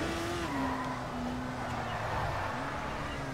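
A car in the video game Dying Light: The Following drives with a steady engine drone and a continuous tire squeal of skidding, loud and unbroken.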